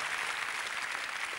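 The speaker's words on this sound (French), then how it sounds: "Bah vous pouvez les applaudir." A concert audience in 1996 claps in a dense, even burst of applause that is continuous and fairly close throughout.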